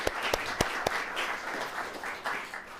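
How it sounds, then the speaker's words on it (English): An audience at a poetry recitation state finals claps together, a dense burst of applause with a few sharp individual claps at the start, sustained for about three seconds without voices. "Another round of applause for round one."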